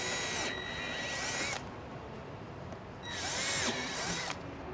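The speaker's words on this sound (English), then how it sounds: "Grab your 8mm drill bit, and we're going to drill out the 3 holes that you can see here." Holes being bored with an 8mm bit by a power drill, two loud whining bursts of about a second each separated by a pause, close and clear with no talking.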